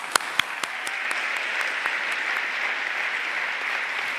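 An audience at the An Post Irish Book Awards applauds the publishing team, a steady wash of clapping with a few sharp, close claps standing out at the start.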